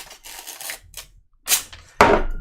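A fireworks sound effect: a few sharp, close cracks and pops end in one loud bang that trails off, all within a couple of seconds, with no speech.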